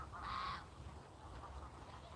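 A goose honks once, faint and distant, from a flock on a football field. The short call stands out briefly over quiet open-air background noise.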